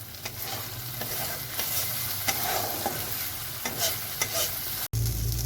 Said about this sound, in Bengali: এবার সবজিগুলো এর মধ্যে দিয়ে দেব।